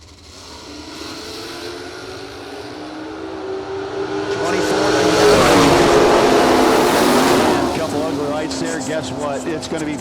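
A Mach 1 Mustang drag race car launches down the strip at the Colonial Classic, its engine roaring and building to a loud sustained peak mid-run, with a track announcer talking over it.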